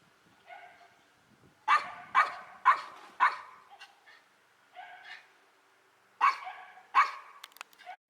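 Two dogs bark in short bursts, sharp clustered yaps with brief pauses between, fairly close and clear against a quiet background.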